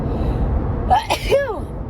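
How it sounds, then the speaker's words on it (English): One sharp sneeze bursts out close to the microphone after a brief intake of breath, over faint background hum. "hold on, I have to sneeze"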